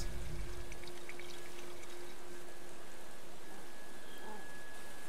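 A helicopter tanker dumps water over a wildfire zone in Life is Strange 2, a heavy rushing pour that starts with a deep surge and settles into a steady, even hiss of falling water.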